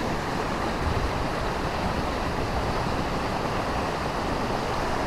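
Rushing water at the Kedung Kayang waterfall in Wonolilo, Magelang, a steady dense roar filling the clip without pause, loud and broadband with no voices.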